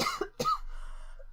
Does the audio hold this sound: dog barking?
no